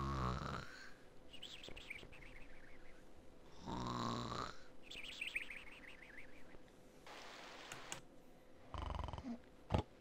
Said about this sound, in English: All this snoring's making me sleepy.